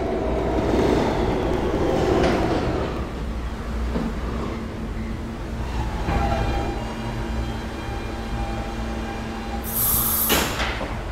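An R160B E train on the New York subway running between Herald Square and 57th Street, a steady loud rumble of wheels on rails with humming motors and a brief high squeal near the end.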